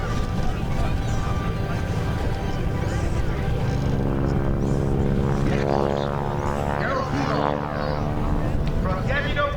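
A Stearman biplane flying at an airshow during a wing-walking act, its radial engine droning loudly and steadily, with the pitch rising and shifting as it passes; an announcer talks over it.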